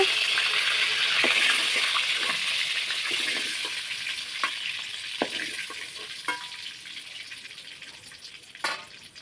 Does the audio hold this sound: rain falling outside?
no